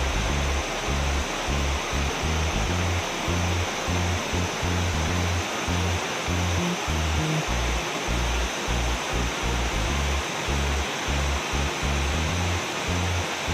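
Srambang waterfall in Ngawi pours in a constant, dense roar of falling water with a deep, churning low end, steady throughout and free of voices.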